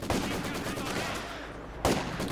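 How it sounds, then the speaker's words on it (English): Katyusha rocket artillery in a Company of Heroes 2 battle, a dense rushing roar of launches and blasts with two sharper bursts, loud and continuous throughout. "Here comes the Katyusha now."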